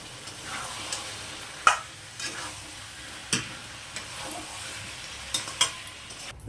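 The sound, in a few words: potatoes sautéed and stirred with spices in a pan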